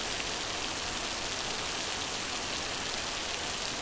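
Steady rain pours down in an even, dense hiss of drops, constant and fairly loud throughout with no voices heard.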